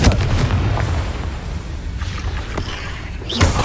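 A Confringo fire-blast spell explodes in Hogwarts Legacy, a dull booming burst over a dense, rumbling game background, with a sharper blast near the end.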